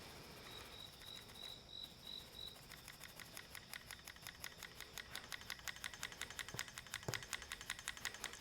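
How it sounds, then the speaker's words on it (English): A paintbrush handle clicks against a camera cord during a mid-century modern table restoration, a quick regular rattle of faint clicks that grows steadier and slightly louder, after a brief high whine at the start. "Sorry about this clicking noise. The handle of the paintbrush is hitting the cord of the camera."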